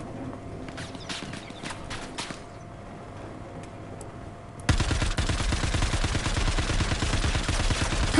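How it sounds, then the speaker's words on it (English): Gunfire from a dropped gun that keeps shooting on its own in the video game Star Citizen: sparse distant shots at first, then a sudden loud burst of rapid automatic fire that runs without pause to the end. "It looked like his gun hit the ground and kept on firing."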